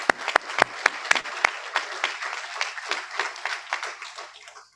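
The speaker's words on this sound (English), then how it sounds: "let's give them a round of applause." Applause from a crowd at a convocation ceremony, opening with several sharp, loud claps that settle into a steady patter of clapping, tapering off toward the end.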